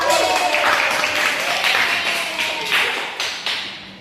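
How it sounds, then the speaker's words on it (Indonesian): A classroom audience of students claps for a classmate, giving a steady burst of applause that lasts the whole stretch and tapers slightly toward the end. "Mari kita beri aplaus"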